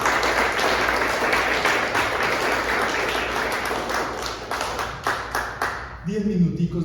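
A church congregation applauds loudly with dense, sustained clapping that fades out after about six seconds into a voice speaking.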